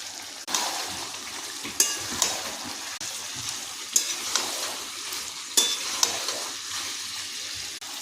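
Pigeon meat frying in a pan with spice paste and turmeric, a steady close sizzle with intermittent stirring scrapes and clacks spaced a second or two apart, no voices.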